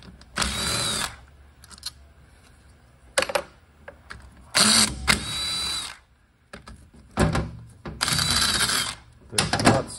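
A power tool whirs in repeated short bursts while 10mm bolts are removed from a Subaru 5EAT transmission valve body, close and loud, with quieter clicks and handling sounds between bursts.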